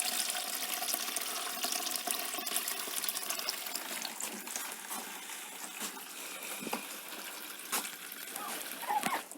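Clean water poured out for farm turkeys, a steady splashing trickle running throughout with faint background noise and no clear talk.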